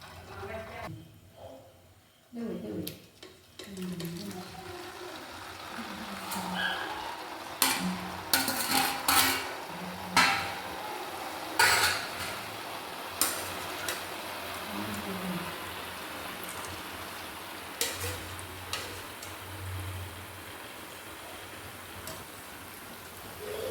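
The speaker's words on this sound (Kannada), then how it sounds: "ಫಸ್ಟ್ ಗುಳಿಯನ್ನು ಫ್ರೈ ಮಾಡ್ತೇನೆ, ಅದಾದಮೇಲೆ ಕಿಡಿಯನ್ನು ಫ್ರೈ ಮಾಡುವ." Christmas kuswar gulio sweets fry in hot oil with a steady, rain-like crackle and patter, broken by occasional clinks of utensils, with a faint voice at times.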